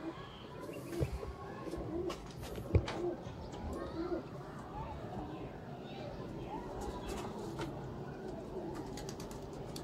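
Sialkoti pigeons cooing in a loft, soft repeated coos from nearby birds with occasional chirps and light wing movement, while people talk over them throughout.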